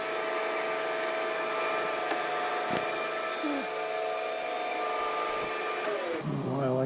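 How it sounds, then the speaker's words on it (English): An electric motor runs in a workshop with a loud, steady mechanical whine and hum that holds for several seconds, then slows and winds down near the end. "Oh, I like to run this stupid motor. Noisier than heck."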